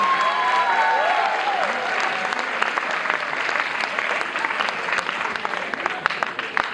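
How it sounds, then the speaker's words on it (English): An audience at a conference talk session claps steadily in a sustained round of applause, with a brief voice near the start. "These people are already clapping."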